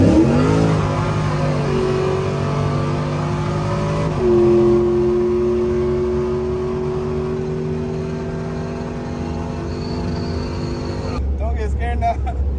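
A turbocharged car accelerates hard during a street race, its engine note climbing steadily and loud, close to the microphone, with a brief spike of whine and noise near the end; occasional speech mixes in.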